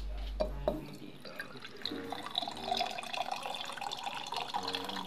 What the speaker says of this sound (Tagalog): Kulang tubig, kaya lalagyan natin ulit